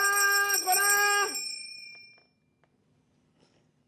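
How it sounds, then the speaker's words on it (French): A small hand bell rings in a quick burst of bright, ringing strokes on a theatre stage. It sounds close and clear, then decays into near silence. "Ma sonnette ne fait pas assez de bruit."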